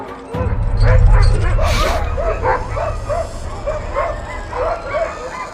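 Sled dogs near a polar bear bark, yip and whimper in a rapid, repeated series, fairly close and loud, with a low rumble beneath and narration over it.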